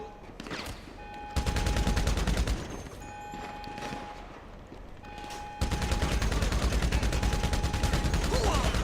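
Gunfire in GTA: sustained bursts of rapid automatic shots, loud and dense, stopping briefly before resuming even heavier, with faint game tones and a voice talking underneath.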